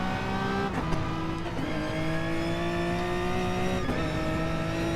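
A touring car accelerates away in an online racing game at the Red Bull Ring, its engine note droning loudly and steadily while the pitch climbs through gear changes over a continuous roar.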